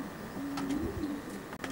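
A racing pigeon cock coos in a loft, one low soft rolling call held for about a second, close and moderately loud over a steady background hum.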